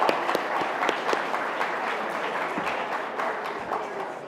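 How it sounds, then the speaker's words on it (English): An audience applauds two debaters after a debate on innovation, with steady, moderately loud clapping and a few crisp claps near the front, gradually easing off. "Give them both a nice round of applause."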